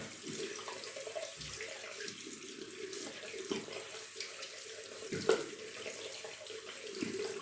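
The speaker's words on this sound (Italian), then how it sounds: "Io praticamente piano piano la passo sotto l'acqua e tiro via la colla così" Running tap water pours steadily into a sink while a razor blade is rinsed under it to wash off glue, a soft continuous splash with small clinks and shifts in the flow.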